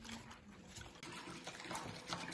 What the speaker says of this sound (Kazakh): су сабынымызбен суды араластырамыз